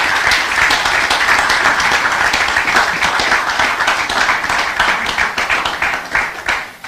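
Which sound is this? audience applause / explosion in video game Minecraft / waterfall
audience applause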